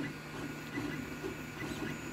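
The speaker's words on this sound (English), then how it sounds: "We got the Voron printing some upgrade parts for itself." A Voron 2.4r2 3D printer printing parts gives a steady mechanical whir, with stepper motors buzzing and warbling in shifting tones under constant fan noise, moderately close.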